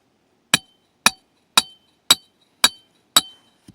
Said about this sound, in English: I'm just gonna use a stake driver in there.